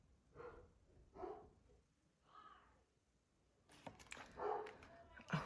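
Several dogs bark inside a house, three separate woofs at first, then a busier, louder flurry of barks and yips toward the end, moderately close and without talk.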